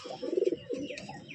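Pigeons of a black-and-white-beaked breeding pair coo close by in a short rhythmic burst, a few throaty pulses followed by softer murmuring.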